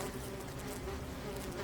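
Honeybees hum in a dense, steady buzz around an open beehive, close and continuous with no talk.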